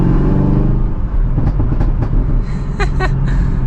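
A 2023 Chevrolet Camaro ZL1 engine rumbles loudly and steadily, with a few sharp exhaust pops and crackles near the end.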